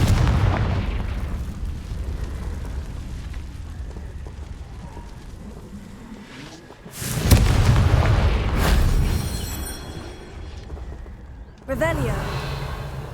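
A Confringo blasting spell in a wizard video game explodes in heavy booms, one large blast with a rumbling tail followed by a second burst later, over low background ambience and brief voices.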